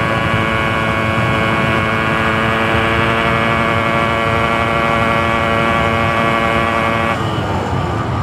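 Two-stroke motorcycle engine at high revs during a top speed run, a loud sustained buzzing whine with strong steady tonal harmonics that shift slightly near the end, no talk over it.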